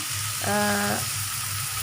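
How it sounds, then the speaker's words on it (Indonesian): Spices and ingredients for goat biryani sizzle as they sauté in a wok, a close, continuous frying hiss with a short humming tone partway through, no speech. "setelah itu kita tumisnya sampai agak layu."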